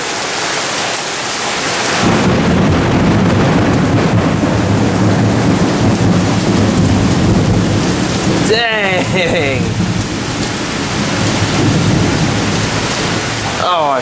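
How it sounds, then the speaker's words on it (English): A thunderstorm on May 21, 2013 brings loud, dense heavy rain that starts abruptly and pours steadily with a low rumble of thunder. A person briefly exclaims partway through. "Oh, I freaking love thunderstorms."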